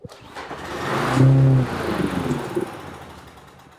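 A small engine being tested with a carburetor problem fires up on carburetor cleaner, cranking briefly, catching into a rough rising run, then settling and fading, close and loud.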